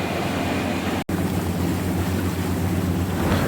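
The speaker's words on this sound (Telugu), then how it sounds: "చూడండి ఎంత స్పీడ్గా పోతుంది పడవ." A boat runs fast over open water, giving a loud continuous rush of engine drone, spray and wind buffeting, with one brief dropout partway through.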